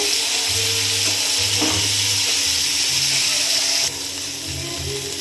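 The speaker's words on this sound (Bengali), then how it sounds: "হলুদ একটু নেড়ে নেবো" Turmeric being stirred in a hot frying pan, a steady loud sizzle and hiss with scraping, occasional clinks and a low hum running underneath.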